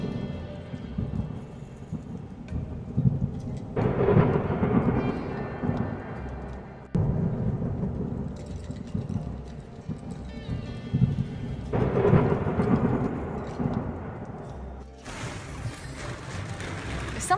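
A spring thunderstorm brings steady rain, wind and rolling thunder, with heavy rumbles swelling and fading over a constant wash of rainfall, and no talking.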